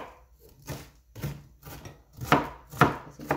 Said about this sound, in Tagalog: Nasa inyo po kung gaano kaliliit ang sibuyas hiwa nyo.